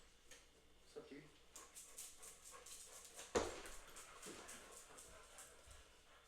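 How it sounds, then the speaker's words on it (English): A dog pants and whimpers near the microphone while being let in, with soft shuffling and a thump partway through, and faint room noise around it. "let me let the dog in before you start yapping"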